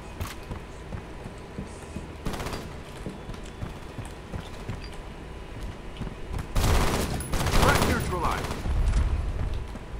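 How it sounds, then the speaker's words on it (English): Gunfire from a player's weapon in the online shooter F.E.A.R. Combat, free-for-all match on the Stockpile map: scattered shots and bursts that grow denser and louder in the second half, with a voice talking over the action. "I was shooting my gun to see"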